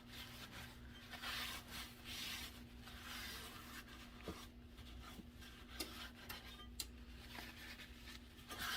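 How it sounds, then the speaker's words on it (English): Shortening being rubbed around the inside of a loaf pan for an old-fashioned lemon pound cake, a soft continuous scraping and rubbing with a few faint taps, quiet and close, no talking. "Just going to take the shortening and grease the pan"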